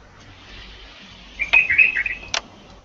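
A pet bird chirping in the background of an online class call: a faint room hum, then a short burst of bright tweets and trills, ending with one sharp chirp.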